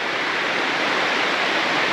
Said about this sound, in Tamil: இந்த வரைக்கும் ஒரு அருவி மாதிரி வந்த தண்ணி இங்கே பார்த்தீங்கன்னா ஒரு ஓடையாக பிரிஞ்சு போகுது